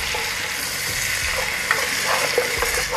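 Tomato paste is stirred into a pot of sizzling short ribs and vegetables for French onion soup. There is a steady frying hiss, with a spoon scraping and clinking softly against the pot now and then.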